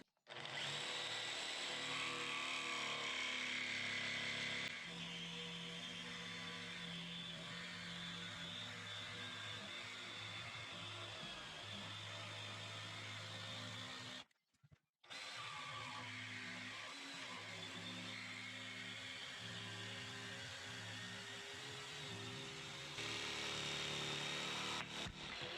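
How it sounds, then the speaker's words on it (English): Power saws cut an old redgum post, a circular saw and a jigsaw, with a continuous loud whining drone and rough grinding, a brief pause midway, then cutting resumes, close by without talk. "I'll just cut this quickly with a circular saw just to get a bit of the bigger stuff out, and then I'll get a jigsaw now and cut around that circle"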